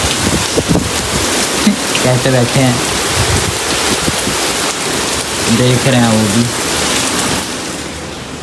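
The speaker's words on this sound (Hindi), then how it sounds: "इतनी तेज़ बारिश आ चुकी है एक ही दम से, बहुत तेज़" Heavy rain pours down steadily, a dense wash of noise throughout, with a voice speaking briefly over it and pigeons sheltering nearby.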